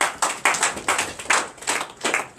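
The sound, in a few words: congregation clapping in acclamation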